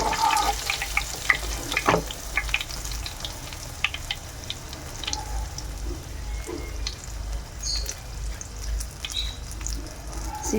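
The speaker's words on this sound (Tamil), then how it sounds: "நல்லா கிறிஸ்பியாக ஃப்ரை பண்ணிக்கோங்க ஃப்ரெண்ட்ஸ்." Chicken nuggets deep frying in hot oil until crispy, a steady close sizzle and crackle with scattered sharper pops and occasional clinks of a utensil throughout.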